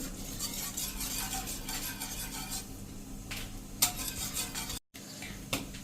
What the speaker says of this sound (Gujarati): અને હવે આને આપણે કન્ટિન્યુ આ રીતે ચલાવતા રહેશું, ગેસની ફ્લેમ મીડિયમ રાખશું.